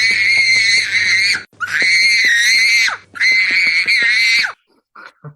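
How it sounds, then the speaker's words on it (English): A child screams at full volume in a supermarket, three long shrill wails in a row with short gasping breaks, loud and close. "It's this kid just screaming at the top of his lungs because his dad wouldn't buy him sweets."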